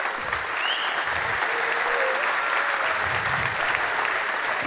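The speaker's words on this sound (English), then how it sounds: "So please give them another round of applause." Sustained audience applause fills a hall at the opening ceremony of the SHA2017 hacker camp, a dense steady roar of clapping lasting throughout with no talk over it.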